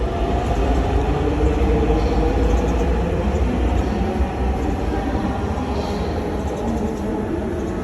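A Dhaka metro train running, with a loud, steady rumble and rolling rail noise close by that holds evenly throughout, with no talking.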